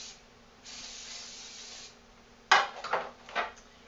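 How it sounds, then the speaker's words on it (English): A soft aerosol hiss of non-stick cooking spray sprays onto a heart-shaped pan for about a second, followed by a few clattering knocks and rubbing sounds of the pan being handled. "I'm going to spray my heart-shaped pan with some non-stick spray"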